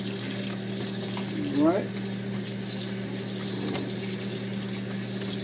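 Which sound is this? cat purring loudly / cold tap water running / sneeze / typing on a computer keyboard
cold tap water running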